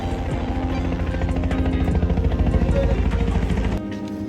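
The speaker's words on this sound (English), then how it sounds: "I'm pretty sure the helicopter was there for me." A helicopter's rotor thumps in rapid, steady pulses close by over New York City, loud and continuous before abruptly cutting lower near the end.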